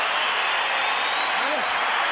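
A packed boxing arena roars for Oscar De La Hoya during his bout with Floyd Mayweather Jr., with constant loud cheering and applause filling the hall, and a commentator's voice heard over the crowd.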